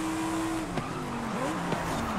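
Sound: race cars racing, video game Forza Horizon 5

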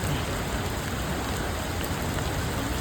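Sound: rain falling at Athirappilly waterfall area

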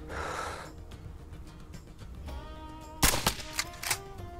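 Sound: rifle shot at a mule deer in a hunting video game

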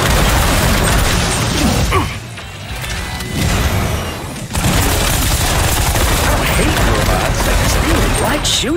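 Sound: gunfire shooting enemies in Space Punks video game

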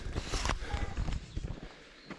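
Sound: horse hooves clip-clopping on trail

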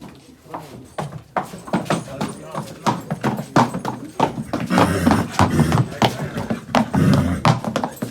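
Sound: horse at a stud farm, hooves clip-clopping

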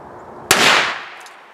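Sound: live ammunition primer going bang

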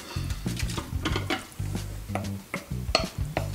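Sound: beef dropped into Instant Pot on saute, sizzling

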